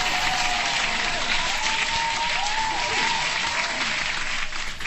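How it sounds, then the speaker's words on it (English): Steady, dense hand clapping from an audience on a crypto market news show, loud and continuous for the whole stretch with no talking over it. "Hand clap to that comment right there."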